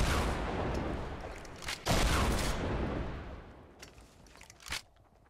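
Gunfire in a Fortnite Battle Royale match, loud dense bursts of shots with a sharp blast near the middle and a few scattered shots trailing off toward the end.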